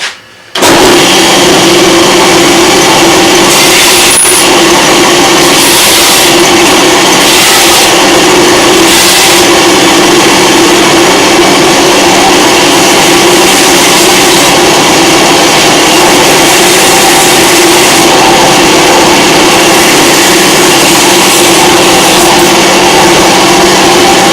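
A loud power sander whirs continuously at a steady high pitch, with a grinding, abrasive hum running unbroken for the whole stretch, used while building Piper Cub bungee covers.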